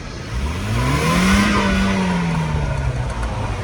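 A battered Mazda 323 engine revs up, its pitch climbing to a peak and then easing back down, close by and loud against a rough, steady background.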